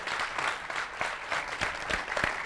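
Audience applause at a robot maze competition, a steady wash of clapping with a few sharper nearby claps standing out, moderately loud and continuous throughout.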